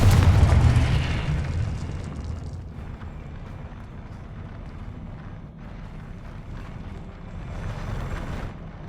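A Confringo explosion spell cast in a Harry Potter video game, a loud booming blast at the start that fades into a long rumbling, windy tail with ambient game noise.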